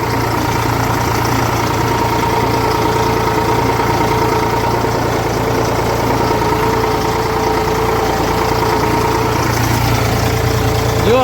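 A tractor engine runs under heavy load powering a thresher during a night-time mung bean harvest, giving a loud, steady, unbroken drone with a deep hum and no pauses.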